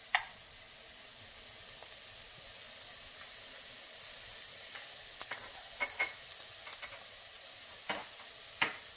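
Two finely chopped garlic cloves sizzle and fry in a pan, a steady hiss broken by occasional small pops and crackles, close and without talk.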